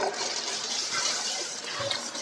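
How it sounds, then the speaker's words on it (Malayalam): Boiled water is poured into a pot of frying chicken biryani masala. A brief, steady gushing pour is heard close up. "ഞാനിവിടെ തിളപ്പിച്ച വെള്ളം ഇതിലേക്ക് ഒഴിച്ചു കൊടുക്കുകയാണ് കേട്ടോ"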